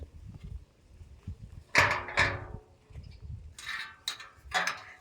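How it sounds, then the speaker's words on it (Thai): A sliding door is opened at a house in Chachoengsao, giving a couple of sharp rolling clunks near the middle, followed by more knocks and rattles against quiet background noise. "เอาเลื่อนประตูอันนี้หรืออันนู้น"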